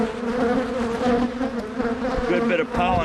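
Honeybees returning with pollen to a split hive, a close, dense and continuous buzzing drone of many wings, steady throughout with faint voices behind it.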